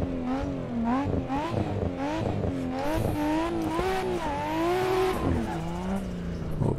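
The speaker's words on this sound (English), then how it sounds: "We can hear the turbo spooling" A car engine in the drifting game Playground revs up and down repeatedly with rising and falling pitch, loud and close, and tire squeal comes in at times.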